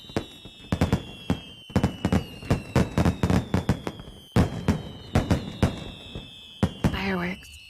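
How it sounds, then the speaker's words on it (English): Fireworks burst repeatedly over a town at night in a video game, a rapid series of sharp pops and crackling explosions with short gaps, loud and fairly close, over a steady high musical tone. "When the fireworks go off in this town, it marks the end of summer."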